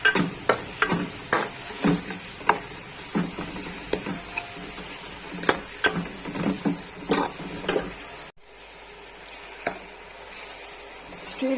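Onions sautéing and being stirred in a pan for a Rajasthani laal maas mutton dish, with a steady close sizzle and repeated sharp scrapes and clicks of a spoon against the pan.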